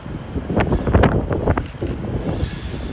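A Class 390 Pendolino train at Carlisle station, bound for Glasgow Central, rolls past close by with loud squealing wheels over a rumbling rail roar, steady for about three seconds, with wind buffeting the microphone and no talk.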